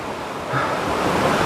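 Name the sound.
small mountain stream flowing water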